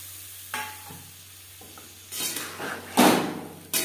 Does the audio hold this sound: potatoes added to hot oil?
yes